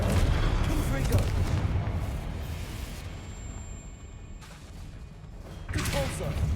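A Confringo explosion spell cast in the Hogwarts Legacy video game, booming blasts amid dense, continuous game noise and layered effects, with a voice speaking over the action.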